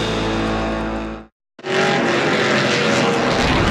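NASCAR Pinty's Series race cars at Autodrome Chaudière during the 2019 Budweiser 300 roar past, loud and continuous, broken by a short silent gap before the engines surge back in full.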